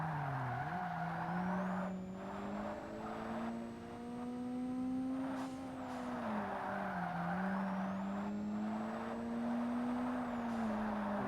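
A race car engine in Forza Motorsport on Xbox drones at high revs, rising and dipping through gear changes, with tire squeal under it, loud and continuous with no talk.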